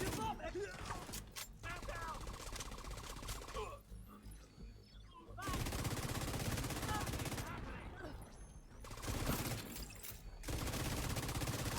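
The Pestilence machine gun in The Division 2 fires long, rapid sustained bursts, loud and close, with brief pauses between strings of fire and some battle sound around it.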